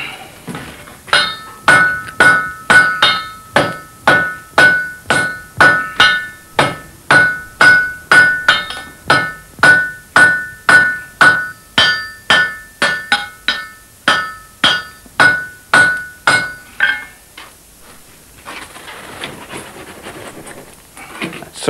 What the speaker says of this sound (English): I'm just getting it hot in the fire to make the metal soft so that I can hammer it out on the anvil.